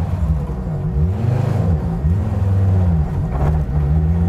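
An Audi Quattro S1 Group B rally car pulls away with a deep, close engine note. The revs rise and fall in several surges as it moves off, loud and steady with no talk.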